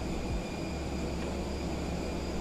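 Steady, even whooshing roar of Airbus A320 jet engines in the MSFS 2020 flight simulator, a constant broadband hiss with no variation or talking over it.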